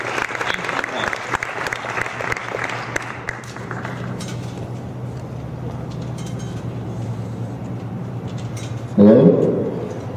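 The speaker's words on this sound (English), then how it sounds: "So please, another round of applause for Juan." Audience applause for a student honored at a Cesar Chavez march event at Desert Vista: a dense, steady crowd clapping that carries on with a noisy background, then gives way to a sudden loud burst near the end.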